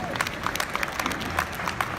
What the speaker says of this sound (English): deserves a massive round of applause